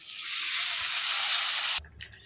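Spices frying with dried red chillies hiss loudly in a pan as a little water is poured in, a steady bright sizzle that cuts off abruptly near the end, leaving a few faint kitchen clatters.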